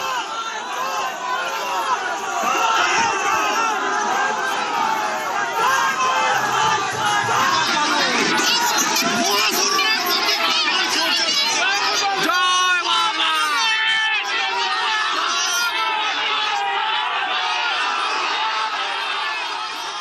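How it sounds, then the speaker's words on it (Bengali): Rival Left and Trinamool party supporters chant slogans and counter-slogans at a heated political gathering in Bhawanipore, a dense roaring crowd of shouting voices sustained throughout, loud and close with overlapping cries. "বাম কর্মী সমর্থকদের সঙ্গে তৃণমূল কর্মী সমর্থকদের স্লোগান, পাল্টা স্লোগান"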